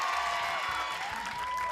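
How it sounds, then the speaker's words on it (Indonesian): Hands clap together at an indoor family Christmas gathering, a short burst of dense, steady clapping at moderate volume, with a faint sustained tone running underneath. "Tepuk tangan."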